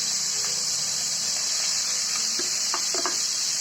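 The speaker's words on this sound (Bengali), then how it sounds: "এখন দিয়ে দিব চিংড়িগুলো" Shrimp going into a hot frying pan during a Chandpur-style koi fish dish, giving a steady, loud sizzle of hot oil with a few brief clinks and stirring scrapes near the end, and no talking.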